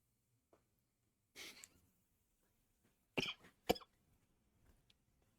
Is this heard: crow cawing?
no